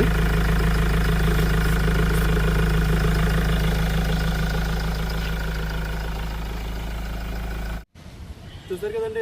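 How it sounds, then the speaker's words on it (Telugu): A 2014 Mahindra XUV500 W8 SUV idles with a steady, even engine drone that stays loud and close. It cuts off abruptly near the end, leaving brief quieter handling noises. "చూసారు కదండి ఇంజిన్ సౌండ్ అయితే బాగుంది మనకి"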